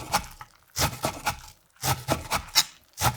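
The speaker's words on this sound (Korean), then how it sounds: "봄동 한 폭이 데쳐서 물기를 꽉 짜준 후 가지런히 정리해서 송송송 잘게 썰어주고" Knife finely chopping blanched, squeezed spring cabbage (bomdong) on a board, with several quick bursts of close, crisp cutting separated by brief pauses.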